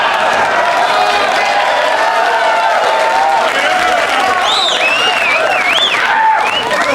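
A live studio audience of a sitcom bursts into loud, sustained applause and cheering, with whoops and whistles rising over the dense clapping throughout.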